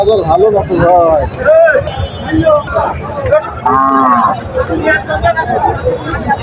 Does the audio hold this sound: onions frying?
no